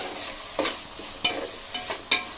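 Potatoes frying in a pan for a spicy potato fry, stirred with a spatula: a steady soft sizzle runs under four or five distinct scraping stir strokes spaced about half a second apart, with no talking.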